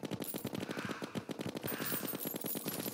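Rapid bursts of weapon fire from the Stake Launcher in Terraria (Calamity mod, Malice Mode), a fast steady rhythm of punchy shots continuing without pause, loud and close with no talking.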